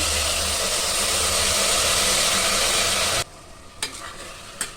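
Washed sona masoori rice is stirred into fried onions in hot ghee. A loud, steady sizzle fills the first three seconds, then cuts off abruptly, leaving a few soft utensil clinks against the pan.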